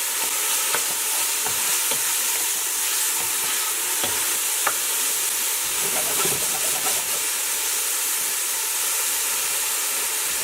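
Garlic sizzles in a pan of mushroom sauce with a loud, steady frying hiss, and the stirring adds occasional scrapes and clicks throughout.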